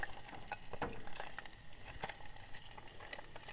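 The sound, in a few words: meat frying in fat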